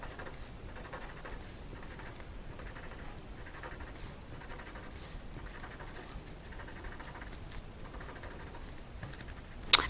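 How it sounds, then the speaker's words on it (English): A pen scribbling on the back of a paper envelope, making faint, continuous scratchy strokes in short repeated bursts, close and quiet, ending with a sharp small tap. "I'm just scribbling that underneath each ant on the back side of the envelope"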